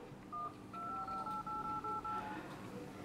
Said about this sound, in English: that's just only for the dial tone, for the dial pad